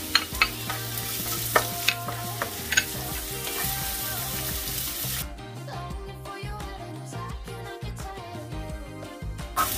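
Garlic and then onion fry in a pan, giving a close, steady sizzle with a few sharp clacks of a utensil early on, before the sound turns quieter and more muffled partway through.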